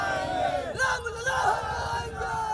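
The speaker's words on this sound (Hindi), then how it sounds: "जुबान में जय श्री राम के नारों का शोर तेज हो गया है" A crowd in Ayodhya chants Jai Shri Ram slogans, a loud, dense mass of raised voices yelling together in continuous waves with no break.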